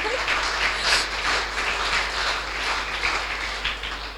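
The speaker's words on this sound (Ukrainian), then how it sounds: "Оплесками дякуємо команді інкогніто" An audience at the final of a Ukrainian youth financial-literacy quiz tournament claps for a team, a steady, dense wash of applause lasting several seconds with no voices over it.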